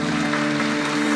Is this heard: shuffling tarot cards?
no